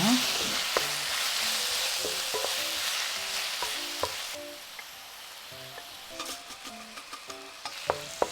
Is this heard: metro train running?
no